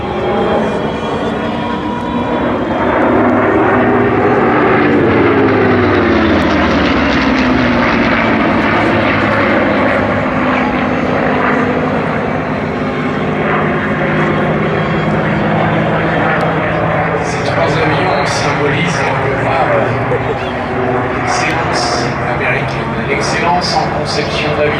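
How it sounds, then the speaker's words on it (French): Three vintage warplanes, a P-51 Mustang, a P-38 and an F4 Corsair, fly together at an air show, their piston engines making a loud sustained drone that rises and shifts as they pass, with a commentator talking throughout. "C'est un P51 Mustang, un P38 accompagné d'un F4 Corsair."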